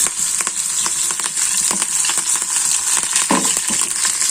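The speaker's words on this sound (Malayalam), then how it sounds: "എന്നിട്ട് നമുക്കപ്പോഴത്തേക്ക് കടുക് പൊട്ടിക്കാം" Mustard seeds crackle and pop in hot coconut oil with dried red chillies, curry leaves and small shallots, a dense frying sizzle with scattered sharp pops close by and no talk, while seasoning a Kerala ash gourd buttermilk curry.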